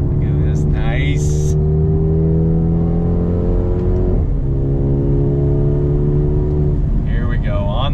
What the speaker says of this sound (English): On throttle, here we go. Nice fast shifts.